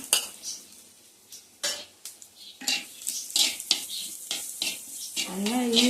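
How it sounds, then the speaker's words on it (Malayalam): Grated coconut frying in hot oil in a clay pot, with bursts of sizzle alongside scraping and clinking of a utensil against the pot, stirred in uneven strokes. "ഇതിപ്പോൾ വെച്ചിട്ട് എത്ര സമയമായി ഇപ്പോഴും തളിച്ചുകൊണ്ടിരിക്കുന്നുണ്ട് ഇത് ഓഫായിരിക്കുകയാണ്"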